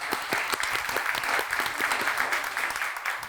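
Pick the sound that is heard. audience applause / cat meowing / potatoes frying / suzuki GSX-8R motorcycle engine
audience applause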